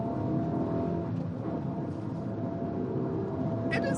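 A small turbocharged Fiat 500 city car pulls hard with a steady engine drone and road roar from inside the cabin, with a brief rattle near the end.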